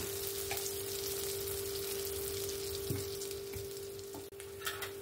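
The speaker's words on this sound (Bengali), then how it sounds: "আমি একটা করে বড়া ভেজে নেব" Fritters made from lentil batter with two eggs frying one at a time in hot oil, a steady close crackling sizzle with a faint continuous hum beneath and a few soft clicks, no voices.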